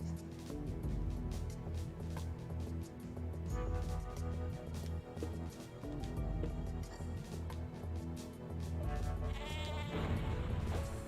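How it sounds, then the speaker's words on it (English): Cartoonish sheep bleats from the sheep bomb weapon in Worms: Battle Islands repeat over busy game music and effects, ending with a burst like a crash or explosion. "there's the classic sheep bomb, which is one of my favourite weapons in the Worm series"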